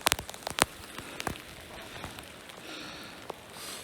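Rain falling high in alpine country above the snow line, a faint patter of scattered drops on nearby surfaces with a few sharper close taps at the start.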